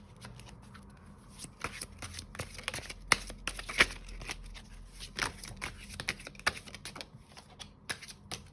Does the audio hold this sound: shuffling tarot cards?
yes